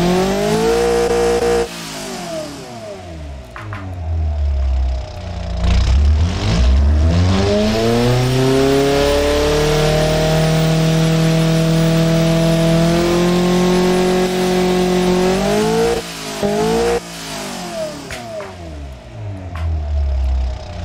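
An inline-four engine in the Automation car game revs up and down through simulated gear changes, a loud synthetic rising and falling tone that sweeps repeatedly, alone without speech.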